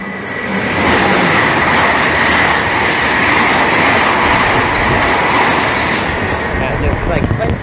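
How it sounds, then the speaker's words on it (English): IET train passing through Maidenhead station on the Great Western Main Line, a loud sustained rush and rumble of wheels building quickly and holding steady before easing at the end. "approaching now, getting ready to pass by as an IET"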